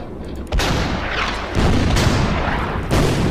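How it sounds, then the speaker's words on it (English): Artillery in the Order of Battle: Winter War strategy game fires in heavy booming blasts, three loud impacts in quick succession with rumbling tails, no voices. "And then the artillery will hit this one."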